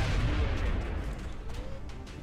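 A grenade explosion in the XCOM video game starts as a heavy low boom and fades into a rumbling decay over about two seconds, moderately loud, with no voices over the blast.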